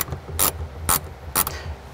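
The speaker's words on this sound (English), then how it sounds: "We're going to take this bolt out and replace it with another bolt, an M6." A ratchet works on a bolt during a Jeep JKU Rubicon side cubby install, giving three short, sharp clicking bursts spaced evenly apart, close and fairly quiet.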